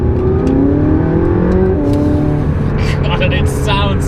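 A McLaren 675LT engine revs loudly and up close, a deep, rough growl with rising and falling pitch and some whirring, while someone talks over it.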